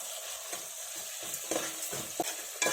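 Ginger paste frying in a pan for Andhra-style mango mutton curry, a steady soft sizzle broken by repeated scraping stirs that grow a little louder toward the end.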